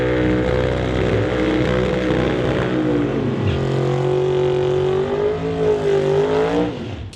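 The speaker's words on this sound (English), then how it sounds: "598 cubic inches under the hood of that red Camaro" A red 1970 Chevrolet Camaro with a 598 cubic inch engine roars loudly at a drag strip, holding a steady high drone before the pitch dips, climbs and wavers as it accelerates away.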